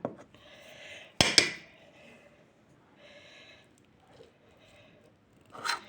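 A metal spoon clinks and scrapes against a dish while pressing and shaping flour halva, one sharp double clatter then quieter scraping, close by with faint background sounds.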